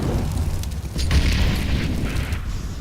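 Deep booming grenade explosion in a competitive Counter-Strike-style match, a loud low rumble that swells and lingers for a few seconds.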